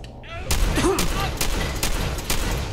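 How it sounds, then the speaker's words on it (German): Bursts of rapid video game gunfire from Fallout 4 crackle through the clip, with a voice briefly audible beneath the shots. "Oh, das war ein schöner Schuss."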